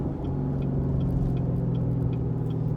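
A Camaro fitted with a Borla ZL1 cat-back exhaust drones steadily while cruising, its deep, close exhaust note holding even throughout with no talk over it.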